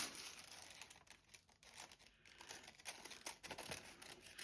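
Scissors snip through paper ephemera for yellow journals, cut from the back along a corner edge, with close, crisp crinkling and rustling across the whole stretch and no talking.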